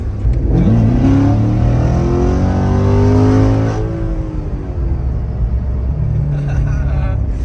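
A rebuilt manual Corvette engine revs hard while driving, a loud rising roar with climbing harmonics that peaks and then settles into a steady lower rumble, close and dominant throughout.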